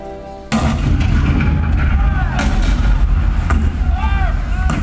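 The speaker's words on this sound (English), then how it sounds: "The cannon spoke for war, bitter, violent, and devastating." Cannon fire from the 1861 Fort Sumter battle, heard as a heavy, continuous roar with repeated booming blasts and sharp reports, loud and close throughout after a sudden onset.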